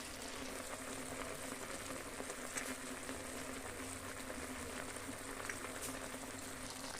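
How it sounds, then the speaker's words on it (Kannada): Chicken sukka masala with tomato simmers and bubbles in a pan, a soft continuous boiling hiss with faint scattered pops, steady and quiet throughout with no talking. "ಇದು ಕುದೀತಾ ಇದೆ."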